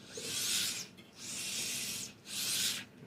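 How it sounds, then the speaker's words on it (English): The brushless motor of a Redcat Ascent18 Scout2 RC crawler gives a high, airy, turbo-like whine at full speed, rising and falling in three long bursts with brief gaps between runs. "It's got like a little whiny turbo-ish sound when you go full speed on it"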